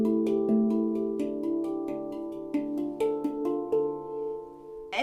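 Handpan, a D Celtic or Kurd tuned steel drum, struck with notes in loose, near-random combinations, a steady stream of ringing metallic tones overlapping and sustaining, close and clear with no voices.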